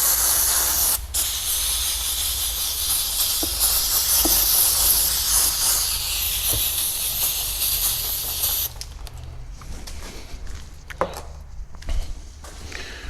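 A hissing spray of cleaner bursts out steadily for several seconds, then stops, leaving a quieter room with a few light knocks and rustles.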